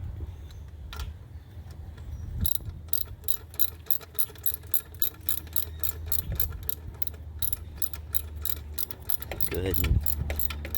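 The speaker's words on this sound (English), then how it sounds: "Inserting the bolt right there, getting it nice and snug. And then go ahead and ratchet it up." A hand ratchet tightens a bolt on the alternator of a 2001 Dodge Dakota, giving a quick run of sharp metallic clicks in uneven bursts over a low steady background hum.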